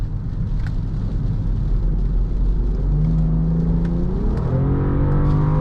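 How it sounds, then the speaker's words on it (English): A 2018 BMW X5 xDrive35i accelerates onto a highway, its engine note climbing steadily in pitch over a constant loud rumble of road and wind noise inside the cabin, with no talking. "we'll get on the highway here and we'll try out some of the acceleration"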